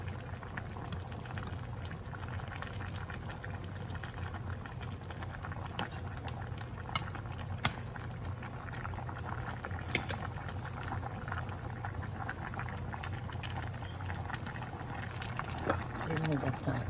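Chicken adobo with liver simmers in a pot, a steady low bubbling and hiss that holds throughout while people talk over it.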